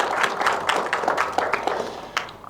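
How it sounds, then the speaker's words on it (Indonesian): Studio audience clapping together during a televised dialogue forum on disaster preparedness in Banten, a steady, dense patter of applause at moderate loudness throughout, with no talk over it. "Boleh tepuk tangan kembali?"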